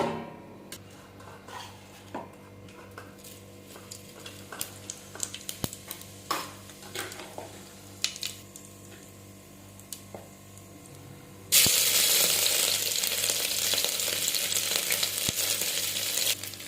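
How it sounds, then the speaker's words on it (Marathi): Garlic and cumin dropped into hot oil for a Marathi-style tempering, with soft stirring clicks first, then a sudden loud, steady hiss and crackle of sizzling that carries on to the end. "फोडणीसाठी लसूण आणि जिरे टाकणार आहे"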